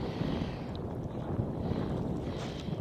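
Wind blows hard across an open outdoor spot where a kite is about to be flown, a loud, low, gusty roar buffeting the microphone continuously with no speech.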